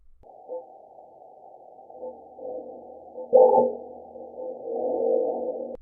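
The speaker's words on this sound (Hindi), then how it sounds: "6 अप्रैल 2019 को इस डिवाइस ने मंगल ग्रह पर आने वाले भूकंप को भी महसूस किया" A seismometer recording of a marsquake on Mars from April 2019, made audible as a low, steady rumbling hum that swells into a louder burst midway and then lingers in a rougher, rising drone.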